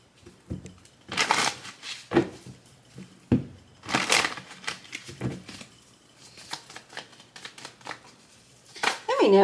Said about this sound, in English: Let me do a quick shuffle here.